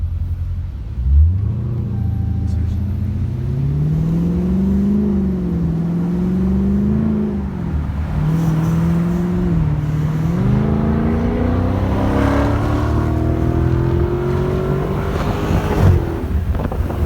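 A Chrysler 300 392 Scat Pack V8 on its first drive revs and pulls through gears from inside the cabin, a loud continuous engine drone rising and falling in pitch across several shifts, with no talking.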